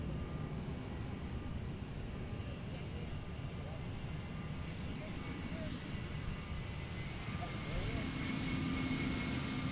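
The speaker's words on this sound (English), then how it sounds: "Delta Airlines A320." A Delta Airlines Airbus A320 at Bergstrom International Airport makes a steady, sustained jet roar that fills the whole stretch, with a voice talking faintly over it.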